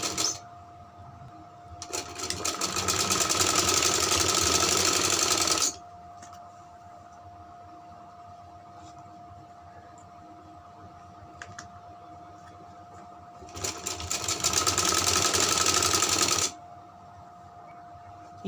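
A sewing machine stitches cords onto a fabric sleeve in two sustained bursts of a few seconds each, with a quiet pause between them and a steady tone underneath throughout.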